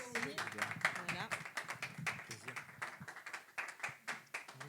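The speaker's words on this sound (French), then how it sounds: "on l'applaudit jusqu'à ce qu'elle retourne à son siège" Audience at a slam poetry evening in a Cannes venue clapping after a performance, quick irregular claps with a voice talking over them throughout, fairly close and moderately loud.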